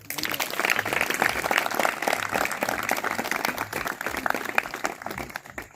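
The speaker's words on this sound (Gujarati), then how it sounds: "હા, જોરદાર આપણે તાળીઓ પાડો." Sustained applause from an audience at a church gathering, a dense steady wash of many hands clapping throughout without a break.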